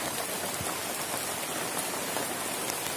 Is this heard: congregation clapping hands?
no